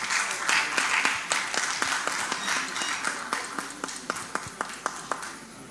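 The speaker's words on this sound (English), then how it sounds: "A round of applause as she comes." Applause from the audience at the Chartered Institute of Bankers Ghana 60th anniversary launch, a full round of clapping that thins toward the end into a few sharp, separate claps.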